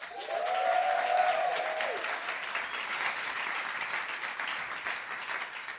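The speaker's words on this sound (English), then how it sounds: "So can everyone give him a huge round of applause?" A talk audience breaks into a big round of applause for a speaker. The clapping swells quickly and then holds steady, with a brief cheer or whistle near the start.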